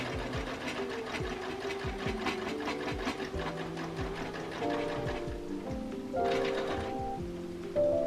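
A sewing machine hems the skirt of a milkmaid-style dress, running in steady, fast stitching bursts with brief pauses and shifts in speed, close and clear with no voices.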